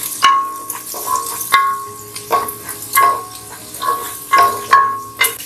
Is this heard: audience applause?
no